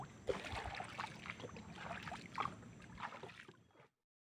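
A Thai longtail boat motor drones past with water noise, its rough buzzing rising and falling before cutting off abruptly near the end.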